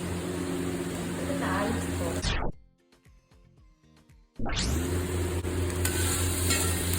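Curry leaves sizzle in hot oil while a kuzhambu is stirred during traditional bulk cooking, giving a steady loud hiss that cuts out briefly, with faint clinks in the gap, and then returns.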